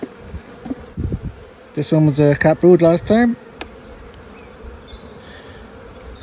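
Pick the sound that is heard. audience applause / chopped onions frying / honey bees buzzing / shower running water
honey bees buzzing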